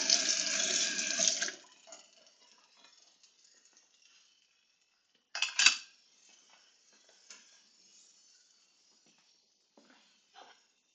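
A kitchen tap runs into the sink during washing up, a steady hissing stream for under two seconds, then later a short second burst and scattered small splashes and clinks of dishes.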